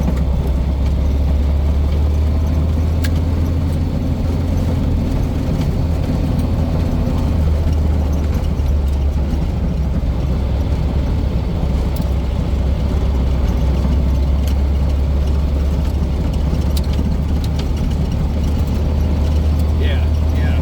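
A desert-style Volkswagen Karmann Ghia with new shock absorbers drives over a bumpy dirt road, a steady low engine drone and road rumble running beneath people talking.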